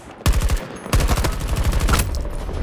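Automatic weapons fire in Battlefield 2042, loud close bursts of rapid shots in two runs separated by a brief pause, dense and continuous with no talking.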